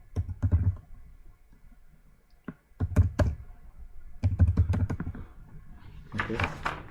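Someone types on a computer keyboard in short irregular bursts of close, crisp key clicks with pauses between them, and someone talks over the typing.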